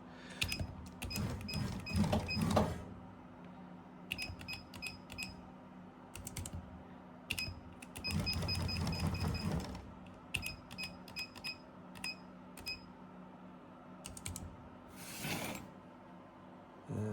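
Cherry keys are tapped in bursts to jog a 2D scanner in half-millimetre steps, sharp clicks in quick clusters separated by pauses, with mechanical whirring and faint room noise between them.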